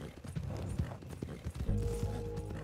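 A horse gallops in Red Dead Redemption 2 after a jump, a dense rapid run of hoofbeats over rumbling game ambience with tonal music entering partway, no speech.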